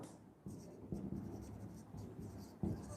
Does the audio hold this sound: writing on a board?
yes